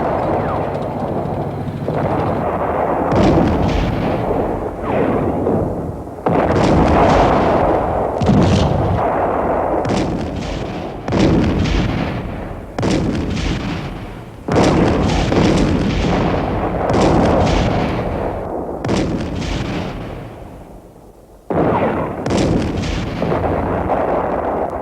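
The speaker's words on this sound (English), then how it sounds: "moving under heavy artillery fire" Heavy artillery fire in a 1967 Six Day War battle near Abu Agela, a dense barrage of loud, booming blasts arriving every second or two, overlapping and rumbling continuously.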